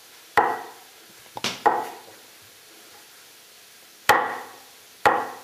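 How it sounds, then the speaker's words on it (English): A knife chopping peeled ingredients for pesto on a board, with five sharp, close chops spaced irregularly and quiet pauses between them. "now we give these a quick chop"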